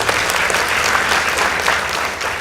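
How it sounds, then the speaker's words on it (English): A studio audience at a school debate competition gives a round of applause, loud and close, with dense, continuous clapping from many hands filling the whole stretch. "Kindly give them a round of applause."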